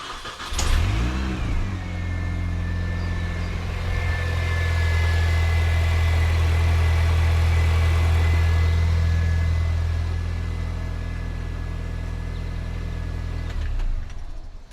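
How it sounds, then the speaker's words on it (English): A Mini R50/R53 engine cranks and catches after a camshaft position sensor replacement, then settles into a steady, loud idle up close with a faint whine riding over the hum for most of the clip before fading. "you can just quickly start the car before you put the wheel on to make sure that the car starts okay"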